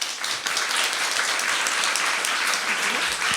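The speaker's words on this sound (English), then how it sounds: "Give her a welcome applause." A conference crowd at a feminist event applauds to welcome a woman author onto the stage, loud, dense and continuous clapping that carries through to the end.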